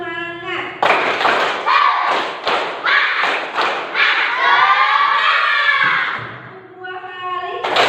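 Schoolchildren repeating a rhythmic clapping chant, groups of claps punctuating loud chanted voices, ending in a sustained shout before a teacher's voice returns.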